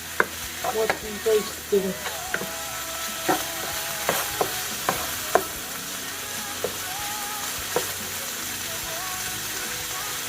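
Butter and olive oil fry in a pan while shrimp spaghetti is being cooked, giving a steady sizzle broken by sharp clinks and scrapes of stirring utensils, with a voice briefly speaking over it.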